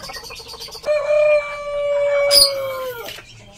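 A Cornish Bantam crossed with Modern Game Bantam rooster crows loudly nearby, one long drawn-out call with a sharp, squawking break near the end, against faint background bird chatter.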